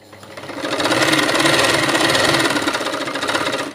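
A sewing machine stitches around the back neckline of a blouse, running as a steady, fast mechanical whir with dense rhythmic clatter that holds at a constant loud level for the whole stretch, with no voices.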